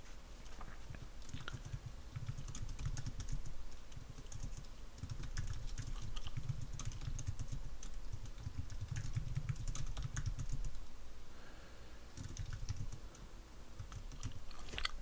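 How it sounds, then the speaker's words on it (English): Quick, soft clatter of fingers on a computer keyboard at a sports card stream, in close-miked bursts with short pauses between, quiet and intimate with no talking. "See my typing here."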